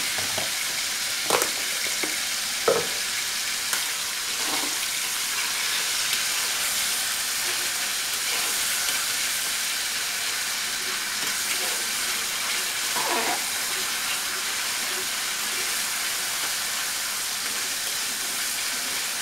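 Onion paste fries in too much oil, a loud continuous sizzle with a few sharp spatters and stirring clinks scattered through, and no one speaking.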